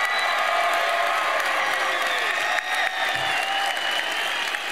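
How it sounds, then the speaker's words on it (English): A crowd claps steadily and loudly for the graduating class at the 2023 Clackamas High School graduation ceremony, with scattered whoops and cheers mixed into the continuous applause throughout. "Let's give one huge round of applause for the graduates of"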